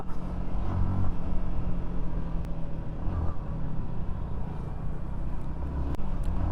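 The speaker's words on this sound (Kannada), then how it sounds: "ಇಂಜಿನ್ ಸೌಂಡ್ ಕೇಳಿಸ್ಕೊಳ್ಳಿ ಹೆಂಗಿದೆ ಅಂತ" A Yamaha XSR155 motorcycle engine idles with a steady, low drone, continuous, close and fairly loud, with a couple of faint clicks over the top and no talking.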